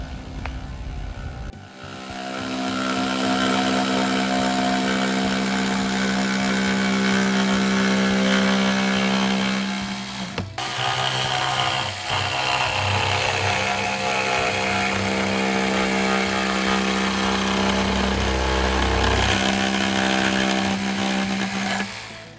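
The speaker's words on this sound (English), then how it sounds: "When you cut the corner, please make the power tool erect." A handheld power tool cutting a curved pocket corner runs continuously at close range, a loud steady whine with a strong tonal hum and a brief dip near the middle, with no speech over it.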